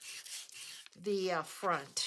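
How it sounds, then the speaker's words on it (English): Sanding discs scrape rhythmically as an old finish is sanded off the front of a piece being prepared for decoupage, a close, rough rubbing sound with a voice speaking briefly partway through. "I'm just trying to sand that finish off so that I know my decoupage will stick"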